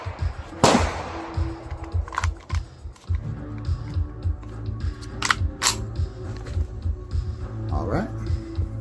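A Ruger 22 Charger compact pistol fires at a 100-yard target: several sharp, separate cracks spaced a few seconds apart, the first loudest, with scattered handling clicks and rustling between them.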